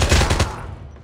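Rapid automatic gunfire from the mobile shooter game Call of Duty Mobile, a loud close burst of shots that fades into a decaying tail within about a second.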